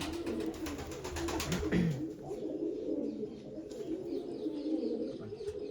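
Several prize racing pigeons in a Punjabi fancier's loft coo in a steady, low rolling murmur, close by and continuous, with no talk over them.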